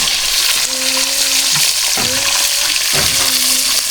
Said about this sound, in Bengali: এই যে মাছ ভাজা শুরু হয়ে গেছে।